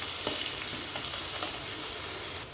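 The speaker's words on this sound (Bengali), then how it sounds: "পেঁয়াজটাকে ভেজে নেব।" Chopped onions fry in hot oil in a pan, a steady close sizzle with a few faint scraping stirs, no voices over it.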